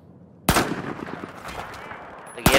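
Gunfire in the video game Battlefield 4 China Rising comes as two sharp, loud single shots about two seconds apart. Each shot has a short echoing tail, with faint in-game ambience between them.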